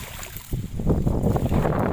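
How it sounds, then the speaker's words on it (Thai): Cold wind blows hard while foam-float fishing lines are set on the water, a rough, steady rush buffeting the microphone that swells after the first half second, with no speech. "โอ้ยลมหนาว"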